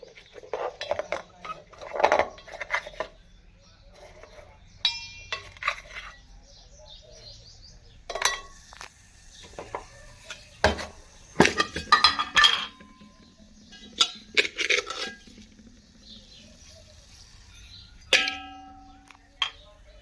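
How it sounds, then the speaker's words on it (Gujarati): Metal utensils clink and scrape against a pot while chai is stirred in a village home, sharp scattered clinks of varying loudness, with birds chirping in the background and voices talking now and then. "હવે તો આપણે ચાય મૂકી દીધી છે"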